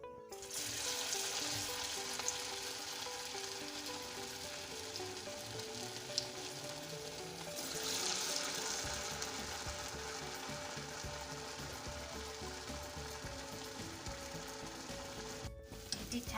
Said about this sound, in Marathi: आता वडे तळायला घेऊ